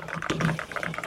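Typing on a Corsair K65 Plus Wireless keyboard gives a quick run of soft, close key clicks at an even pace, with no one talking.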